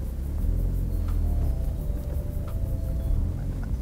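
Indonesian national car driving around Blok M: smooth, steady low engine and cabin rumble heard from inside, continuous and moderately quiet with faint small knocks.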